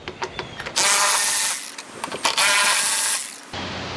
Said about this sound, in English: Go ahead and take these 2 bolts out.